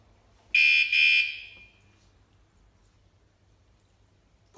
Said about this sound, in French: premier avertissement